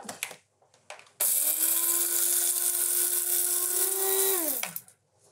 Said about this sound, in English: So in goes some coriander seed and some cumin seed. And I want to grind those up.